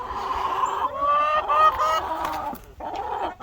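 Chickens cluck and squawk nearby, several overlapping calls in a lively burst followed by a brief pause and more clucking.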